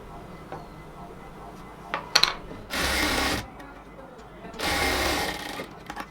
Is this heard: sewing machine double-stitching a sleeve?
yes